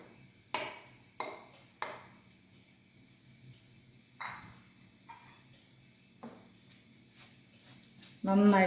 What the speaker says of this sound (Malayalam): നന്നായിട്ട് തേങ്ങ മൂപ്പിച്ചെടുക്കാം